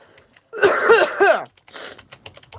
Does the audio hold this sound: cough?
yes